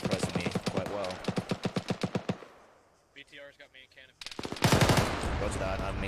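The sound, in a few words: BTR armored vehicle gunfire in the video game Squad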